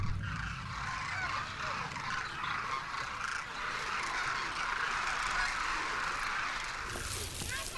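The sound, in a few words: flock of cranes calling in desert town of Kichan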